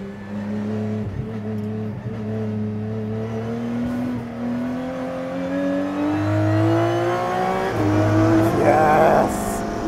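An Aston Martin Vulcan race car engine roars steadily on track, its pitch climbing and dipping through gear changes, loud and sustained with a brief tire squeal near the end, with no talk.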